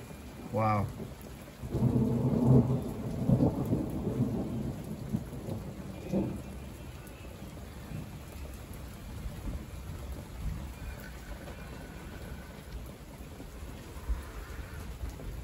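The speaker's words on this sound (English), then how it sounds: "You can hear the thunder" Thunder rolls and rumbles through a heavy rainstorm in Big Bear, California, with a loud crack and booming rumble early on, then steady rain hissing on surfaces as the rumble fades into the distance.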